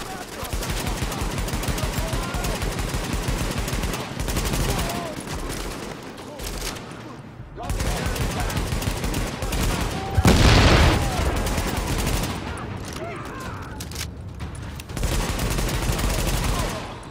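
Gunfire in Tom Clancy's The Division, pistol and other weapons cracking in steady rapid volleys for a long stretch with brief gaps, under ongoing commentary from a player talking throughout.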